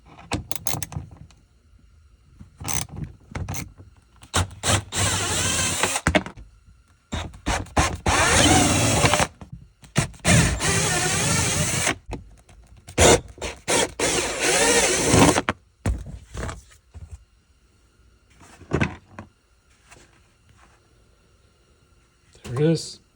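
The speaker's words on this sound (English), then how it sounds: "I'm going to break them all loose. That way I can come back with a drill" A power drill spins out fasteners on a panel of a 2026 Honda Passport during a MOLLE panel install, in several loud whirring bursts of a few seconds each, separated by pauses and quieter handling noise.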